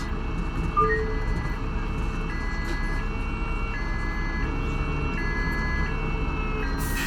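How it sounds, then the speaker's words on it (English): A police car siren in a bus-driving video game wails in a steady two-tone pattern, repeating several times against a constant background hum and low rumble. "I think that was a police car."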